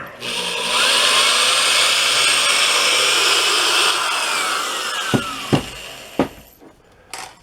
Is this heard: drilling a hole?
yes